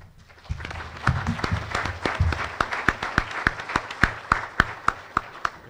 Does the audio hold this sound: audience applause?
yes